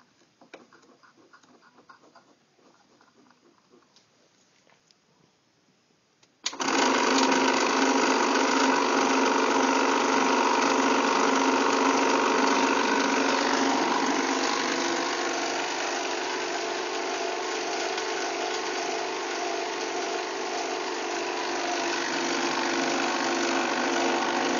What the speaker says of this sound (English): So to focus the machine, we turn it on, and then we adjust this dial to adjust the lens.